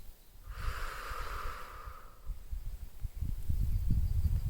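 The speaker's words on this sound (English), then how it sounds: "And breathing out." A deep, slow breath let out through the nose during a guided relaxation, a soft airy exhale lasting under two seconds, followed by quiet low rustling.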